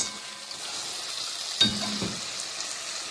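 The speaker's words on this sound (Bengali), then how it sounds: "1 কাপের মতো জল দিয়ে 5 মিনিটের মতো কম পাওয়ার করে হালকা ফ্রাই মানে ভেপে পরে তারপর খিচুড়ির মধ্যে দিয়ে দেবো" Mutton pieces frying gently over low heat in a pan for khichuri give a steady, soft sizzle, with a brief louder hiss and a clatter of stirring partway through; no one speaks.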